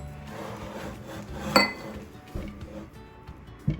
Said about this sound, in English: Add chocolate chips and mix it up now.